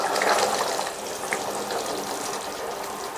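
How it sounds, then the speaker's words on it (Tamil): Chickpea (channa) gravy boils in a pot, giving a steady, close bubbling hiss with soft pops that runs the whole time, slightly louder at the start. "3 நிமிஷமாக கிரேவி நல்லா கொதிக்குது"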